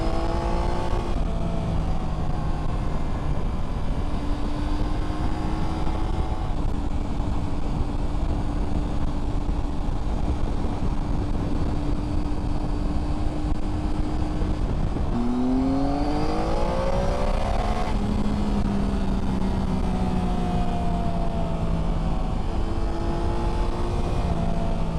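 A Triumph Tiger 800 XCa motorcycle engine rises and falls in pitch on a country road, with steady drone and rising throttle sweeps under heavy wind rush, loud and continuous throughout.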